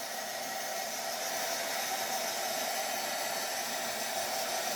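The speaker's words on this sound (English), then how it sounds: "And let me hit this with the dryer real quick." A hair dryer blows continuously at close range, a loud, even rushing whir with no pauses.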